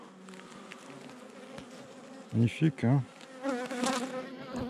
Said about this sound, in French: les abeilles ne chauffent que le couvain.